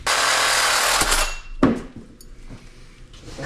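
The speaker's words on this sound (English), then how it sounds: "Grab the sawzall." A reciprocating saw cuts through metal on a vintage overlanding rig, a loud, dense buzzing that runs for about a second and a half and then cuts off. A sharp clank and a few fainter knocks follow.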